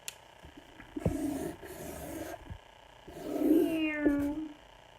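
A cat meows twice, close and clear, the first a short drawn-out call and the second a longer, rising then falling wail, with quiet pauses around them.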